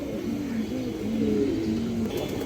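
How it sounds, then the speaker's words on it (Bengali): A male Chuithal Musaldam high-flyer pigeon coos in a steady, rolling series of low throaty notes, close and fairly loud against a faint background hiss, with no talking. "এই যে দেখেন নরের ডাকটা দেখেন, যার পছন্দ হয় আপনারা সিঙ্গেল চুইঠাল মুসলদম নটটা নিতে পারবেন"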